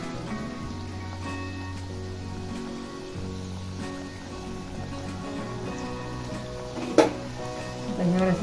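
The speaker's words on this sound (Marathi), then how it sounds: "आता अशा सर्व लाटून घेतलेल्या आहेत त्या आता सोडायचे आहेत एक एक तेलामध्ये." Rolled chirote pastries fry in hot oil in a steady, close, crackling sizzle over a low hum, with a brief clatter about two-thirds of the way through.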